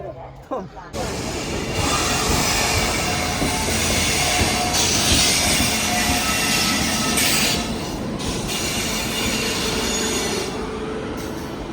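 A train rolls in alongside a platform, steady rumble and wheel clatter with high metallic squeals, loud and close throughout, with faint voices in the background.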